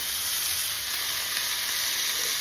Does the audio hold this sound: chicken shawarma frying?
yes